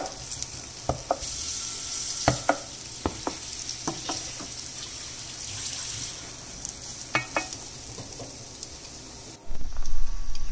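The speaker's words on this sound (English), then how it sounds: "add the potato cubes and mix them thoroughly. Use a wooden spatula" Potato cubes are stirred in a hot oiled pan with a wooden spatula for masala dosa filling: a steady frying sizzle with scattered irregular knocks and scrapes from the spatula, close and fairly quiet, with no talking.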